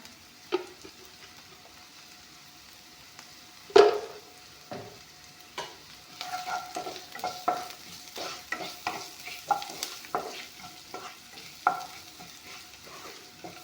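Pumpkin pieces frying and being stirred in a pan, with a steady sizzle and clustered scraping taps of a spatula, loud and close, with no talk.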